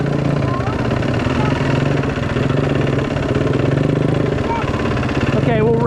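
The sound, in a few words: dirt bike engine revving, shifting gears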